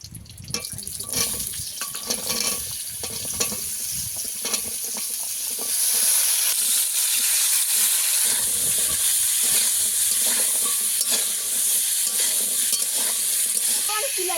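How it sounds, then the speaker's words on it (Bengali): Drumstick stalks fry in mustard oil in a pan, with a steady close sizzle that swells louder about halfway through and carries on unbroken, with no talking. "হালকা করে সরষে খাড়াগুলো ভেজে নেব।"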